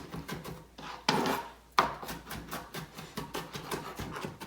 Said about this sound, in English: So I'm going to mince this.